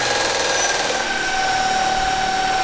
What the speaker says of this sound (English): I'm gonna put a small load up by putting on this propeller